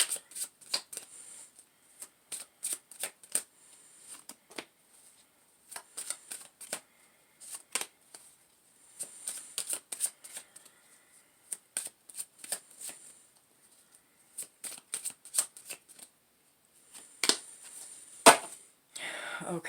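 Tarot deck being shuffled by hand, bursts of crisp riffling and flicking card noise separated by short pauses, close and clear with near silence between bursts.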